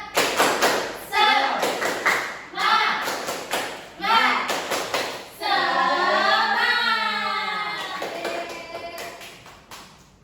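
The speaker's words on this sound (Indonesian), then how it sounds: "Nah, kita bareng-bareng tepuk semangat." A classroom of children performs a rhythmic clapping chant, with sharp bursts of hand claps in repeated short groups, their voices chanting loudly along and ending in a long, drawn-out collective shout.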